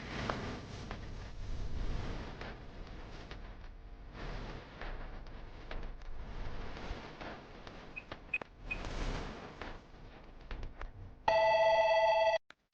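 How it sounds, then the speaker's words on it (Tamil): A telephone rings during a Tamil television drama scene: one loud, steady electronic ring bursts in near the end after a stretch of soft background noise, then cuts off abruptly. "போன் அடிக்குது, போய் பாரு"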